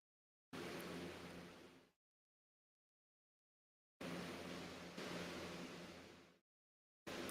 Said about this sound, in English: all it is white noise being filtered